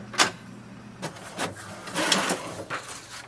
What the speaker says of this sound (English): So printer printed the page and it says welcome to Wi-Fi direct.